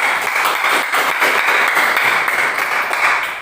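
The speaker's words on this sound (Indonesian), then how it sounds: "mari kita kasih dulu aplaus ke kelompok pertama. Kita tepuk tangan dulu" Classroom applause for the first student group, a loud, steady burst of many hands clapping that carries on alone with no talk.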